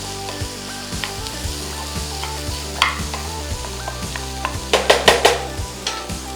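Chicken cooking in a pan with garlic, a steady sizzle under repeated spatula scrapes and taps against the pan, with a quick burst of louder clattering stirs near the end and no speech.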